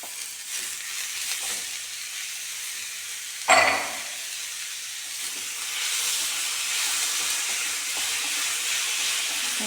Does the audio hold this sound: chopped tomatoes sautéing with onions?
yes